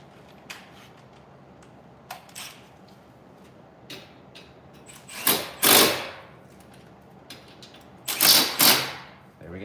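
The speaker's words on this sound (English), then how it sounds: "Put brake caliper screws back in." Brake caliper screws being driven back in during a pad and rotor replacement, heard as sparse metallic clicks and ratcheting, then two louder bursts of tool noise close by.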